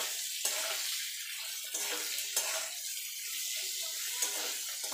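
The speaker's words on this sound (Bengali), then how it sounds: "এবার এটাকে নাড়াচাড়া করে নেব" A spatula stirs vegetables seasoned with turmeric and salt in a hot pan, giving repeated scraping, sizzling strokes in an uneven rhythm, close and fairly loud.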